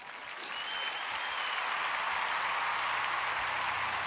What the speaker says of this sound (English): I want to give a nice clap for that.